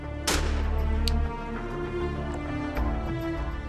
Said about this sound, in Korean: 멧돼지를 찾기 위해 수색 작업을 하던 중 총성이 들린다